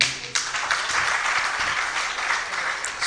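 An audience claps steadily at a religious camp gathering, a dense crowd of hands sounding near and fairly loud for several seconds without a break.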